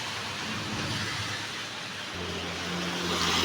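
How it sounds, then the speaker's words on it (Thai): Light rain falls in Surat Thani as a soft, steady hiss, faint and continuous with a low engine rumble underneath and no talk. "ในที่สุดฝนก็ตกแล้วครับ"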